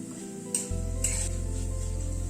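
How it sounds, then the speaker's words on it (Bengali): Potato strips frying in oil in a pan, a steady loud sizzle starting abruptly with light stirring scrapes and clinks over it, close and continuous, no talk. "আলুগুলোকে কিন্তু এরকম কন্টিনিউয়াসলি নাড়তে হবে।"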